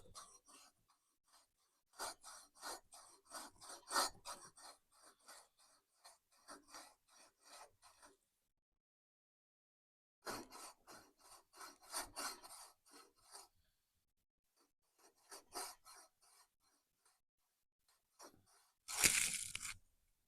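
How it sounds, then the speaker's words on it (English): Hand lapping of a new flywheel, worked back and forth by hand: bursts of dry rasping, grinding strokes in irregular rhythm with pauses between runs, close and fairly quiet. "Grab a hold of your flywheel and just work it back and forth."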